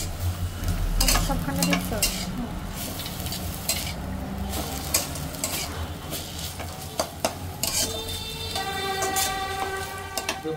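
Tomato fried with mustard is stirred in a pan, with continuous sizzling and repeated scraping and clanking of a utensil against the metal, close and fairly loud, and a brief voice speaking over it.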